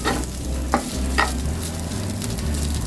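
Vegetable fried rice stirred in a hot pan, a steady close sizzle with two brief scraping strokes of the utensil, no voices.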